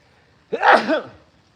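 A single loud, sharp sneeze bursts out of near silence, close by, and fades quickly.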